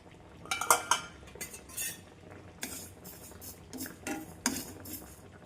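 Fenugreek and cumin seeds are dry-fried in a pan for a tomato pickle spice mix. A spoon stirs them in bursts of close clinking and scraping against the metal, with quieter gaps in between.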